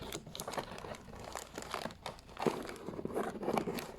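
Plastic packaging on a Sonic Egg Mobile toy playset is cut and pulled apart, giving a steady run of faint, close crinkling and snipping with no talk.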